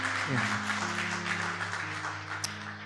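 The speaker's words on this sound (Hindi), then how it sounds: "जोर से ताली बजाओ।" A church congregation claps loudly, a continuous dense patter of many hands over sustained keyboard tones, staying steady before easing slightly near the end.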